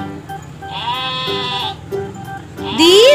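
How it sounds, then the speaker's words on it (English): Sheep bleat loudly and close by in a farm setting, two long wavering calls with a short gap between them, followed by a rising third bleat. "These are sheep."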